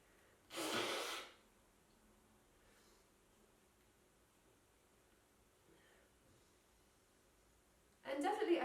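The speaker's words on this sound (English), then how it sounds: "Okay, so again, I'm just going to blow my nose." A person blows their nose after rinsing with a neti pot, giving a short forceful nasal burst near the start, a quiet stretch, then a second burst at the end.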